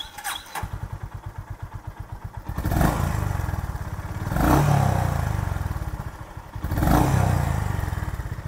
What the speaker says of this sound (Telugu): ఒకసారి ఇగ్నైట్ చేస్తాను, ఇంజన్ సౌండ్ ఎలా ఉందో వినండి.